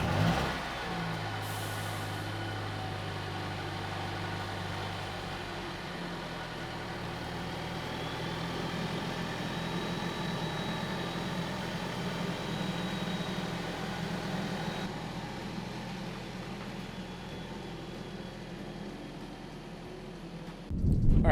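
A 2020 Mercedes CLA 45 AMG with its stock intake and the hood up starts and runs, holding a steady, moderately loud engine hum with a low rumble for about twenty seconds.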